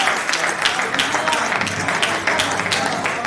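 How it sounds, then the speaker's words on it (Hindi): Enthusiastic audience applause for a poet at a Hindi comedy poetry event, loud and continuous with dense clapping that swells in waves near the listener. "जोरदार तालियां बजाइए इस अनूठे कवि के लिए।"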